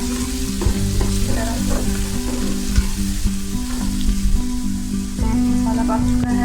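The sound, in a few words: lobia beans with masala frying in a pan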